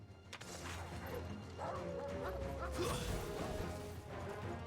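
Dog monsters barking and yelping in Final Fantasy XVI combat, several sharp barks amid crashing hits and battle effects, fairly loud and busy.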